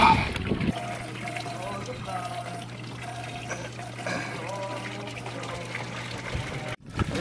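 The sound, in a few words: pond filter pump circulating water in a tote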